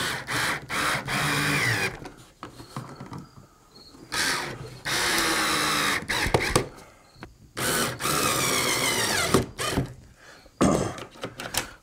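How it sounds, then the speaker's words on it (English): A power drill runs forward in repeated short bursts, driving screws into drawer slide clips at a slight angle, loud and close with quiet pauses between each run. "Drill going forward here."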